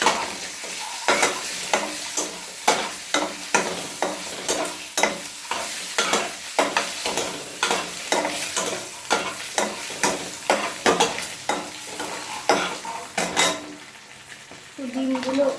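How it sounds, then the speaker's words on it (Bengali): Eggs frying with salt and turmeric crackle steadily in a pan while a utensil scrapes and taps in a regular rhythm throughout, and a brief voice comes in near the end. "লবণ আর হলুদ দিয়ে ডিমগুলোকে ভালো করে ফ্রাই করে দিতে হবে"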